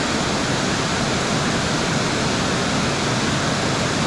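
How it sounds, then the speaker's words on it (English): Loud, steady roar of rushing water from a high-flow waterfall on a wild brown trout stream near Bethlehem, Pennsylvania, broadband and constant throughout with no pauses. "Got a lot of flow coming off this waterfall."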